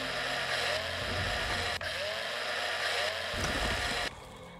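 A mining drill whirs in the space survival game Breathedge: a steady buzzing mechanical whine with rumbling low tones and a brief dip partway, then cutting off sharply near the end.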